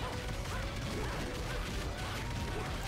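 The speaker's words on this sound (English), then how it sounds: "Massive hand punching." Massive hand punching in the video game Bayonetta: dense, crashing impacts and rumbling smashes blended into a continuous, loud wash of game sound effects, with no talk.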